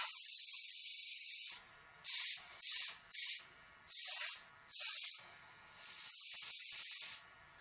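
Airbrush spraying transparent gray paint in a series of short, separate hissing bursts, a steady longer spray closing the run, with quiet gaps of near silence between passes.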